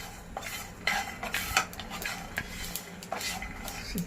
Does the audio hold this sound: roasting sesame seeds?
yes